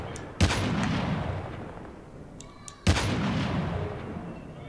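Two loud sniper rifle shots in the Call of Duty Mobile game, each a sharp crack followed by a long, rumbling tail over steady game ambience, about two and a half seconds apart.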